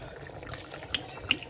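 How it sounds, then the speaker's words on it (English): Pinot Grigio white wine pours into a pot of simmering tomato meat sauce, a soft continuous liquid trickle with a couple of small splashy plops, close and quiet, no talking. "I pour in some Pinot Grigio."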